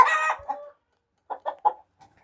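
Hens cluck inside a chicken coop: one longer throaty call, then a pause and three short clucks close by, followed by a faint trailing cluck. No one speaks.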